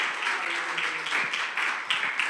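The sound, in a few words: applause for the preacher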